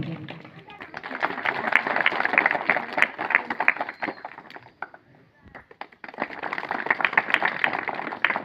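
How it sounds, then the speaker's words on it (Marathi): Children and an audience clap at a felicitation ceremony at a Zilla Parishad primary school in Patilwadi, in two lively stretches of brisk, fairly close applause separated by a short lull. "जोरदार टाळ्यांनी स्वागत करायचं."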